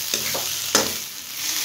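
A potato mixture cooks in a pan for aloo appe, sizzling steadily while a spatula scrapes and knocks through it twice, the second stroke louder.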